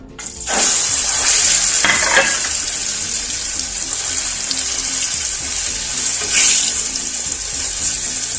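Eggplant omelette (tortang talong) dipped in egg and laid into hot oil in a pan, crackling with a loud continuous sizzle up close, with sharper spits as it hits the oil.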